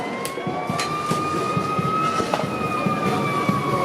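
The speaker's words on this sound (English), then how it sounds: "Oh, it's a fire truck! Wow! Coming to the rescue!" A fire truck siren wails loudly nearby with rising and falling tones over street traffic rumble on Yonge Street in downtown Toronto, no talking.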